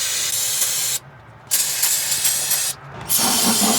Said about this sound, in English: I just want to spray those off before I go opening the system